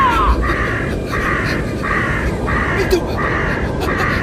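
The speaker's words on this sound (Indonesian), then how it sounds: "Itu bukan awan. Itu burung-burung." A flock of crows caws repeatedly in an animated scene, harsh calls arriving in regular bursts over a loud rushing background while a character speaks.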